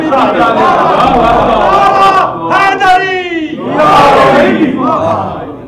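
A large crowd at a Jashn-e-Ghadeer religious gathering roars out loud rhythmic religious chants in unison, voices swelling and overlapping, with a lead voice calling and the mass responding.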